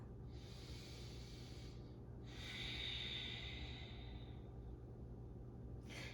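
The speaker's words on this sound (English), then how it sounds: "Taking a full breath" Deep slow breathing during a yoga warrior flow, long airy inhales and exhales in a few drawn-out waves, soft and close over a faint low background hum, with no talking.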